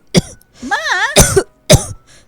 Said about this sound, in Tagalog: Inuubo na kayo.